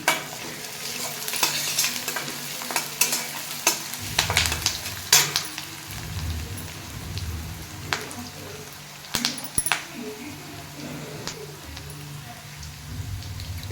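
Peanuts fry in a pan of hot oil for poha, giving a steady crackling sizzle broken by sharp scrapes and stirring clatter throughout, with no talking.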